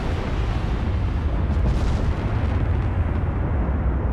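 Battleship 18-inch and 20-inch naval guns fire armour-piercing shells in a warship video game, a dense loud rumbling barrage of booms and blasts rolling continuously, heavy low-end with no speech over it.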